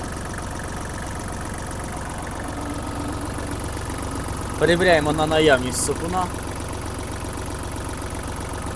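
A Japanese Hinomoto NX-201 mini tractor engine idles steadily with a close, even knocking rumble, while someone talks over it briefly in the middle.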